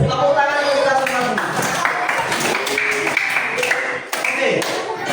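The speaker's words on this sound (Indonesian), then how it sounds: "Tepuk tangan kita semua." A classroom group applauds, a burst of clapping from many hands mixed with voices, loud and close, lasting a few seconds.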